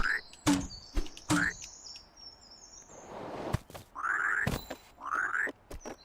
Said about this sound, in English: We picked up an actual frog, and the frog gives us passive powers like making us jump extra high.